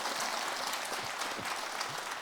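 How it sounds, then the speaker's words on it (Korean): Audience applause at a Sunday dharma talk at Jogyesa temple, a steady wash of many hands clapping at moderate level with a few brief voices under it. "또 박수 쳐줘."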